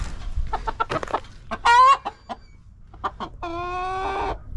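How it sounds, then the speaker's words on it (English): Several roosters and hens in a farm pen, with bursts of clucking and a couple of short, strained crowing calls spread across a few seconds, close to the microphone and loud against a quiet background. "Fancy seeing you here, rooster versus rooster."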